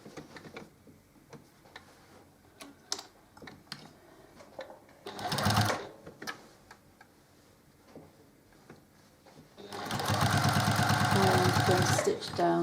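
A sewing machine stitches quilt rows together in short bursts, with quiet ticking and handling sounds between runs and a longer steady rattling stretch of stitching near the end.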